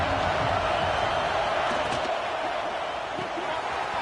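Stadium crowd noise from the college football video game NCAA 26 forms a dense, steady roar that fills the whole stretch without breaks.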